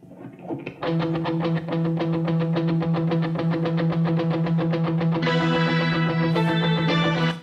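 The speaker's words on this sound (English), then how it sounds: "is that a Gibson Les Paul Jr. Through a Bad Cat?" Distorted electric guitar, a Gibson Les Paul Jr. through a Bad Cat tube amp, plays a driving, rapidly repeated chugging riff, loud and close, with brighter chords joining toward the end.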